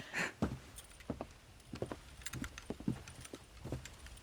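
Horse hooves clip-clop at a walking pace in the Red Dead Redemption remaster, a steady irregular run of soft thuds with faint ambient game sound and no talk.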